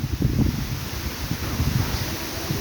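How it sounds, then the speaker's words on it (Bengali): Strong wind gusts through trees during rain at a madrasa in Kulaura, with leaves rustling in a steady, close, blustery roar that swells and eases without a break. "প্রচুর পরিমাণ বাতাস বয়ে চলছে, প্রচুর পরিমাণ বাতাস। গাছের পাতা ঝরে পড়ছে।"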